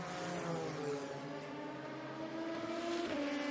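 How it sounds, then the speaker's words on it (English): Onboard engine of the number 35 Alpine race car at Le Mans running flat out down the Mulsanne Straight, a loud sustained whine with steady high revs and a brief shift in pitch near the end. "we're riding on board with him as he rattles on down the Mulsanne Straight"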